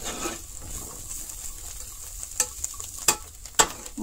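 Chickpeas and jackfruit seeds sizzle steadily in a pan for a Bengali curry, with a few sharp spoon scrapes and clicks as they are stirred near the end.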